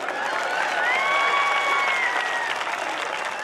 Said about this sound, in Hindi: इसलिए तालियां तो आपको बजानी ही पड़ेगी।